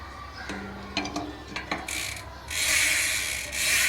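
A part of a Trek Slash 9.9 mountain bike is wiped clean of excess grease near the lock ring. A few close clicks and light handling knocks come first, then loud sustained rubbing swipes of cloth.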